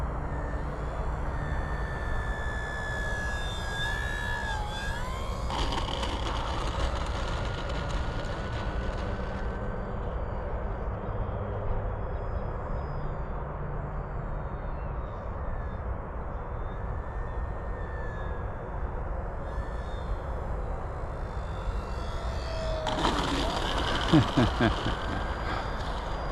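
An FMS Cessna 182 RC model airplane with a 1.5 m wingspan flies throughout, its steady electric motor hum rising and falling with the throttle over constant outdoor noise and wind.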